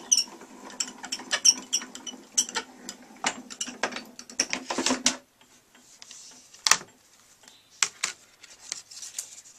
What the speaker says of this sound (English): we're going to stick it in there and just crank it through